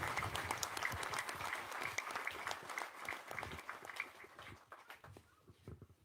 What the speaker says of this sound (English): So give your hands together for the President.